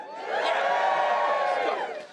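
A comedy club audience in Brighton bursts into a loud, sustained group cheer with whoops and shouts, swelling quickly and fading after about two seconds.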